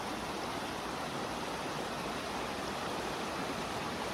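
Continuous rushing of a mountain stream over shale where it pours into a deeper creek, an even, broadband wash of flowing water with no pauses or voices.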